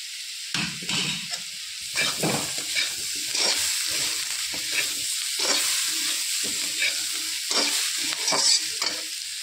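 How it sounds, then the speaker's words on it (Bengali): Spice masala frying in a pan for a tengra fish curry, with a continuous hissing sizzle and repeated close spatula scrapes and stirring strokes. "মশলা দিয়ে ভালো করে ভাজা ভাজা করে নিয়েছি"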